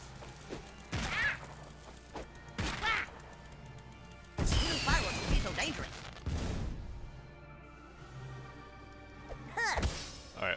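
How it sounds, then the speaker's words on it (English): In South Park: The Fractured But Whole, fireworks go off as several sharp cracks and bangs in irregular bursts, some with crackling tails, while a voice talks over parts of it. "Oh, sweet! Fireworks!"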